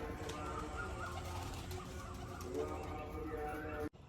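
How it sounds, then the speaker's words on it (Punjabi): Racing pigeons cooing softly in a low, repeated murmur over a busy background hum, fairly close, as they return to their loft. "ਉਹ ਵੀ ਸਾਰੇ ਕਬੂਤਰ ਆ ਗਏ"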